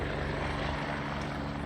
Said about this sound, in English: Helicopters checking out what we're growing.